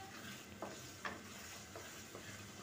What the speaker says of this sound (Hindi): मैं ये मसाला भून रही हूँ